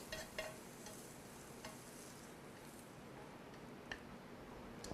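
Ingredients being stir-fried with salt in a pan for a traditional Bonghwa dish, giving a steady soft sizzle with a few light scraping clicks of the utensil throughout.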